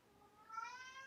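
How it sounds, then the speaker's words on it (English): A cat meows once, a faint, drawn-out cry rising in pitch against a quiet indoor background. "Do you hear a cat meowing?"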